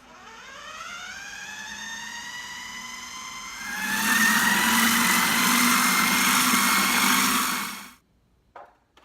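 Food processor running on high to blend two whole eggs, a steady motor whine that winds up, then grows louder and fuller midway before cutting off abruptly, leaving brief quiet handling noise at the end.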